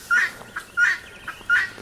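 A guinea fowl calls nearby: three sharp, evenly spaced harsh cries with fainter notes between them, loud and alone.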